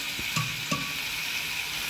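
Pre-boiled kidney beans (rajma) go into a kadhai and are stirred, with a steady sizzle and two quick clinks of the spoon against the pan early on. No one speaks.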